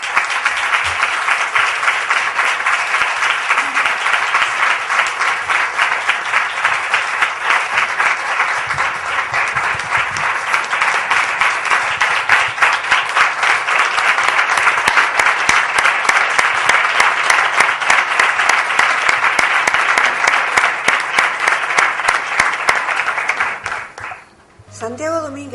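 Sustained audience applause at a municipal ceremony in Marbella, dense steady clapping from a large crowd that carries on unbroken for over twenty seconds before fading out, with voices faintly mixed in.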